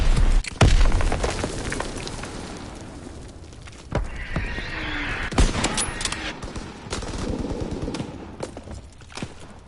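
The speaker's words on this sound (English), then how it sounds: "Enemy mortar fire incoming." Enemy mortar fire in the Call of Duty WWII multiplayer beta, with loud booming impacts and sharp blasts layered over scattered gunfire and ongoing battlefield noise.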